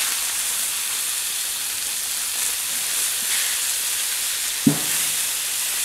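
T-bone steaks searing on a Camp Chef FTG600 flat-top griddle, a constant loud hiss of frying meat with one sharp clack of a spatula or flip partway through.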